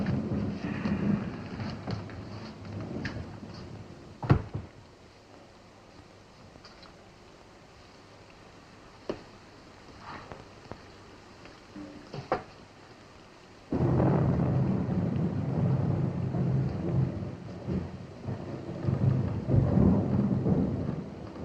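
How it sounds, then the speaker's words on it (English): Heavy rain pours steadily with rolling thunder, including a sharp crack early on and a louder downpour surge midway, heard alone without talk in an outdoor night scene from a 1963 detective drama. "Drop of rain never hurt anyone, lad. It's coming down in buckets."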